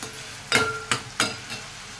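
Spices with garlic and ginger sizzle in a hot pan for an Andhra-style egg masala curry, a steady soft fry broken by three or four brief louder hissing bursts as the pan is stirred.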